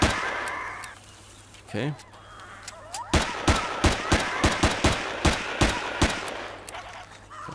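Pistol fire in the game Empyrion: a rapid string of about a dozen sharp, loud gunshots at an uneven rhythm, preceded by creature honks, with a brief spoken word before the shooting.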